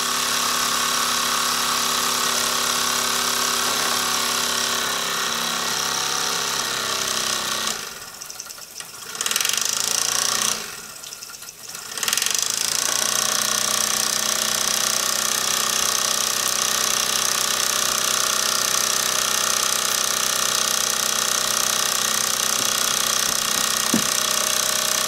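Mamod SW1 toy steam wagon engine running on rollers, a loud close rapid chuffing and rattling that runs steadily, drops out briefly twice in the middle, then resumes.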